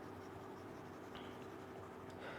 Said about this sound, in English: So in the same way I shall erase this stuff.